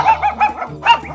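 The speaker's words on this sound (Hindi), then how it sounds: "यहाँ पे कुत्ते की पिल्ले की भौंकने की आवाज आ रही है" A cartoon puppy barks in a quick run of high, yappy yips, close and clear with no talking over it.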